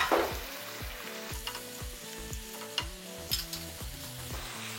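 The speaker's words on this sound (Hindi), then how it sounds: "अच्छे से भून लेंगे प्याज के साथ" Minced meat frying in a pan with garlic, ginger and onion, a steady close sizzle broken by repeated scraping stirs and clinks of a spoon, with no talking.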